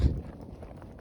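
Horses walking at home on the eve of New Year, their hooves clip-clopping softly in an uneven, quiet rhythm, with a louder thump at the very start and low rumbling noise underneath.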